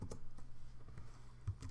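Typing on a computer keyboard while entering portfolio category names in a website admin panel: a close, irregular run of soft keystrokes over a low room hum, with no talking.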